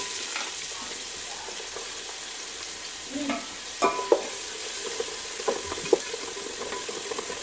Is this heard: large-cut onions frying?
yes